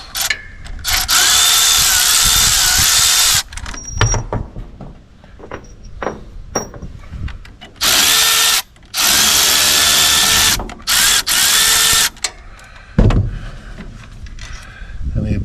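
A power drill removes bolts from a Grasshopper 721 mower's Eaton 771 transaxle. It whines in several loud bursts lasting one to three seconds each, separated by quieter clanks and handling noises of the metal parts.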